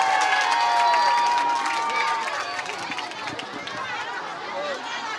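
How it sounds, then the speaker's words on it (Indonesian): A large outdoor crowd of residents in Muara Baru, Jakarta, welcomes the vice president with a loud, dense wash of applause, cheering and chatter that stays steady throughout, with voices mixed into the roar. "Tepuk tangan terlebih dahulu untuk Bapak Gibran."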